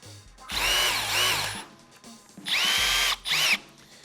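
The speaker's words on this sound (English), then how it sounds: "This is a hammer drill, very compact. It's a 2-speed drill as well." Milwaukee M12 FUEL compact two-speed hammer drill running in three short bursts, the motor whirring up and spinning down between them, loud and close with no speech.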